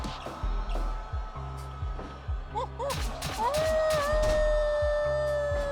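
A howling sound effect plays from a soundboard at a wrestling event, a long, rising, wavering howl held near the end over the thuds and crowd noise of the ring.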